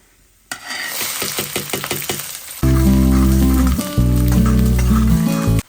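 A loud, dense sizzle erupts as onions hit hot oil with lightly browned garlic, then a steady low mechanical hum, likely an exhaust fan, drones over the frying.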